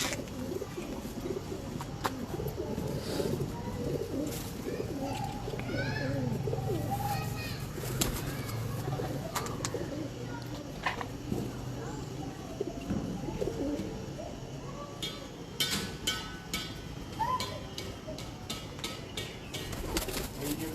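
Pigeons coo on a rooftop in Lahore among a fancier's large birds, soft repeated coos with occasional wing flaps and chirps over a busy outdoor background, with voices talking intermittently.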